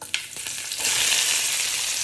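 Crushed shallots and garlic drop into hot coconut oil for a Kerala-style koorka mezhukkupuratti, bursting into a loud, steady hissing sizzle after a couple of brief clinks, close and with no talking.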